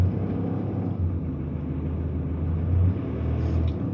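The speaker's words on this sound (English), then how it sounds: "I've just got to stop now because there's a car here, BMW driver" A BMW car moving slowly past along a narrow lane, a steady low engine rumble close by for several seconds, with no talk over it.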